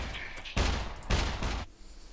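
Gunfire in the survival video game SCUM: two loud, broad bursts around half a second apart, each ringing briefly, with a quieter tail afterward and no talk over them.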